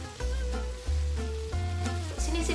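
Chicken pieces for adobo sizzle and fry in a pan, a steady crackling hiss broken by several low thumps as pieces are turned one by one, close and fairly loud with no talking.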